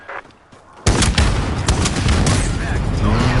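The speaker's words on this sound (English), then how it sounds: "This is an airstrike coming in the junkyard." An airstrike hits a junkyard in Modern Warfare: after a quiet start, a sudden heavy blast erupts into loud, sustained rumbling and crackling debris that lasts to the end.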